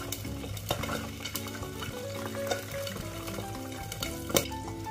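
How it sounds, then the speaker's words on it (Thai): Sun-dried catfish frying in oil in a pan, with a steady crackling sizzle and occasional sharp pops and clinks of utensils against the pan, close and continuous. "ปล่อยไว้อย่างนี้ทอดไปเรื่อยๆจนเสียงน้ำมันกระเด็นสงบลง"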